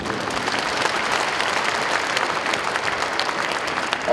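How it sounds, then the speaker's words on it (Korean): Loud, sustained applause from a large audience at a centenary memorial ceremony, following a baritone's performance, a dense even patter of many hands clapping throughout. "다시 한번 큰 박수를 부탁드리겠습니다"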